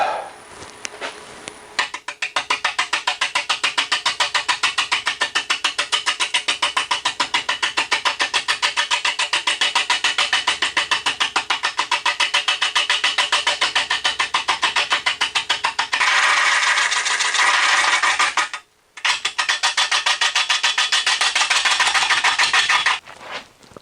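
A lathe turning a very large, dry, end-grain wooden bowl blank, with a loud continuous buzzing, rattling whir that holds steady for a long stretch, briefly drops out, then resumes.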